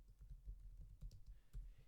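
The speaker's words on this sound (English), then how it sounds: "for the project name, I'm going to type in Black History" Typing on a computer keyboard while entering a project name, a run of soft, close key clicks in an uneven rhythm over a low room hum, with no talking.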